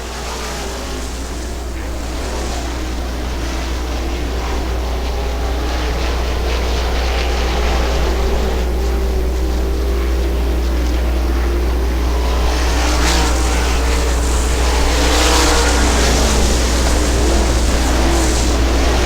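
Sprint cars race at Butler Motor Speedway in a dealer's choice qualifier, engines roaring loud and continuous as the pack goes by, swelling in the later stretch with broadband roar and wind-like rush.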